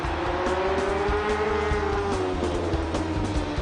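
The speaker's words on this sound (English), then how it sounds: "On lap 13, Marquez went for it. Here he comes." A MotoGP racing motorcycle passes on the track with a loud, high-revving engine whine that holds steady and then slides slightly lower in pitch, close and continuous with no voice over it.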